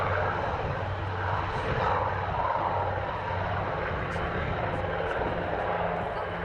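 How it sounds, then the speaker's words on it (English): A broad roar of a Catalina flying boat's engines and propellers taking off under constant noise, steady and somewhat distant, with no clear change in pitch. "Quite a sporting takeoff for a Catalina, Ben."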